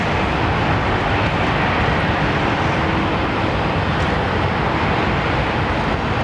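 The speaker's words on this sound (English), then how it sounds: "Good to see a Swiss 220." Swiss Airbus A220 jet at London Heathrow, a loud, dense, continuous engine roar that stays even from start to finish, with no talk.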